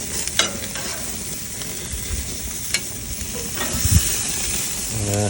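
Meat sizzles steadily on a hot grill, with a few clicks and scraping knocks from handling, close up and without speech.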